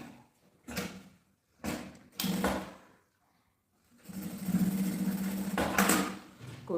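Sewing machine stitching a fabric clutch bag in short bursts, then a longer steady run of whirring, close and fairly quiet.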